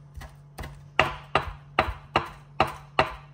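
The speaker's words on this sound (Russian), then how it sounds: "Можете мелко нарезать сюда базилик" A knife chops fresh basil on a cutting board in a home kitchen, giving about nine crisp, evenly spaced taps, close and clear, with no talking over them.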